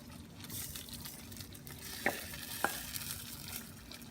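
Pork belly for Kapampangan binagoongan frying in a pan: a faint, steady sizzle with two sharp utensil clicks near the middle, no talking.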